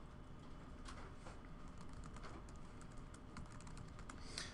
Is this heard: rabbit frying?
no